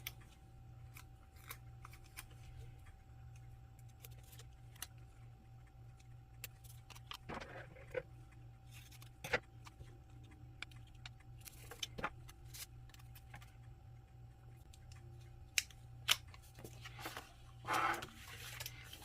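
Scissors snipping through paper rose stickers at a desk, with quiet sporadic cuts and small paper rustles over a steady low hum, close and faint, with no talking.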